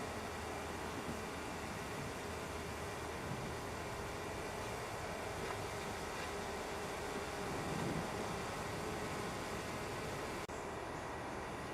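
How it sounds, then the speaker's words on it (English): A passenger train rumbles past steadily at Appleby, a broad continuous roar of wheels on rails holding at the same level for several seconds. "Here comes the 1700 train for Leeds, 1618 out of Carlisle."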